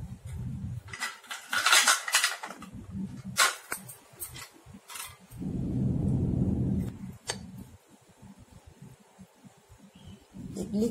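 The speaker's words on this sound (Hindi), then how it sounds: "इडली के सांचे में मैंने एक चम्मच कर करके डाल रही हूँ" A metal spoon clinks and scrapes against a metal idli mould while wheat flour idli batter is spooned in, giving scattered close clatter and taps with a softer low rumble in the middle.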